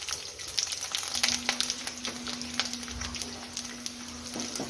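Mustard seeds, crushed garlic cloves and curry leaves fry in hot oil, a close crackling sizzle with rapid pops and spits over a steady hiss, continuous and moderately loud, with no speech.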